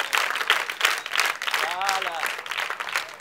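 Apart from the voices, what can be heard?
applause for the guests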